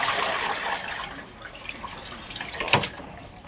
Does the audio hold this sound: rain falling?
no